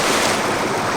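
Waterfall in the video game Indiana Jones and the Infernal Machine, a loud, steady rush of broadband water noise that fills the whole second without a break.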